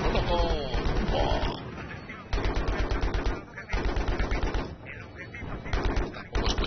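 Battlefield video game gunfire, loud rapid bursts of automatic weapon shots in several volleys separated by short pauses, with a voice talking over parts of it.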